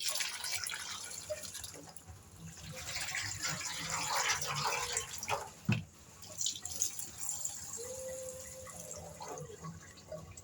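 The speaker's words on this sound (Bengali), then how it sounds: "আমি আজকে কাটল বেশি ধুয়ে নিচ্ছি" Jackfruit seeds being rinsed in water by hand, with steady splashing, dripping and trickling throughout, a brief louder splash near the middle, close and moderately loud.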